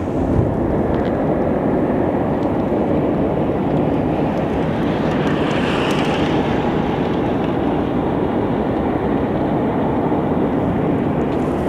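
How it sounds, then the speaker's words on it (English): Steady, loud roar of jet aircraft at Sky Harbor Airport, a broad continuous rumble with no pauses across the whole stretch and no voices. "Sky Harbor has the weirdest traffic when it comes to planes"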